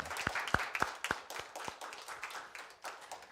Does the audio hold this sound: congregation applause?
yes